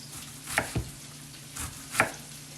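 A knife chopping onion on a cutting board for chicken pot pie, a handful of quiet, irregular thuds spaced across the moment, fairly close with light background hiss.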